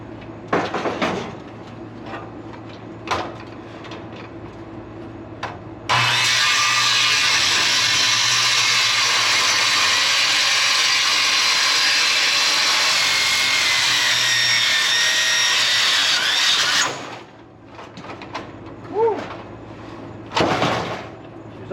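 Loud, continuous grinding saw cutting through scrap metal under tension for about eleven seconds, with clanks and handling noises before and after the cut.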